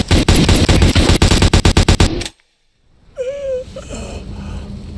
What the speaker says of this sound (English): So you walk away and notice a gunshot